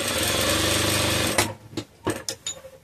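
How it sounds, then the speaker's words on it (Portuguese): A sewing machine stitches a velboa Easter bag, whirring steadily for over a second before stopping, then several short bursts of stitching and handling noises. "eu só passo uma costurinha"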